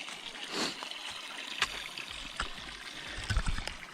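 Greasy Creek flows steadily along the Appalachian Trail, a close, continuous burble and trickle with occasional small splashes and knocks, with no talking.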